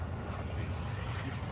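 An airplane in the video game Call of Duty Warzone 2.0 gives off a steady, dense engine roar, continuous and fairly close, with no talk over it.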